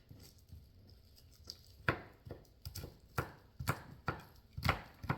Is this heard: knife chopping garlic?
yes